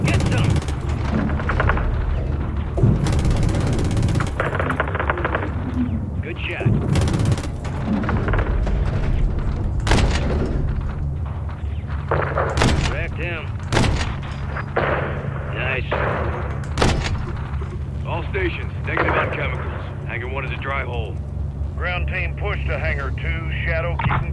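Mortar blasts and gunfire in the 2023 video game Call of Duty Modern Warfare 3: repeated loud booms and sharp shots burst over a constant battle rumble, with radio-style voices talking throughout.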